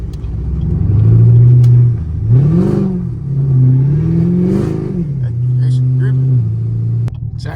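A catless Chevrolet Camaro SS engine revs and pulls while driving through snow, its loud exhaust drone rising and falling in several throttle swells over roughly seven seconds, heard up close from inside the car.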